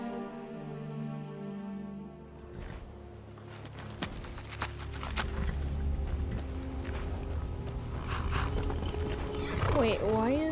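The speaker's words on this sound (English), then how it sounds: "Wait, why is there a horse here?" A horse in the Skyrim video game snorts and neighs against a game music bed and ambient hum, with faint hoof sounds and a person talking over it.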